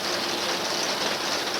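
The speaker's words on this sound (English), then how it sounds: "That's the second time it's rained today." Steady rain hissing down, a dense even wash of drops falling continuously with no pauses.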